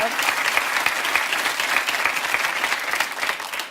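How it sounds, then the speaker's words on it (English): Studio audience at a TV quiz show giving a contestant a big round of applause: loud, dense, continuous clapping from many hands throughout. "give Angie a big round of applause"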